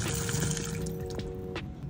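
Water pours steadily from a kitchen sink faucet turned fully open, the sink draining freely after a clog was cleared with a spring wire declogger; a continuous close splashing rush with a few brief clinks.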